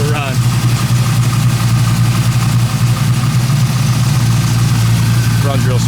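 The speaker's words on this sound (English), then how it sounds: "Now we're going to shut up for a few seconds so you can hear it run." A 1973 Camaro engine with Edelbrock aluminum heads and MSD ignition runs at a smooth, steady idle, close and loud throughout with a constant low rumble.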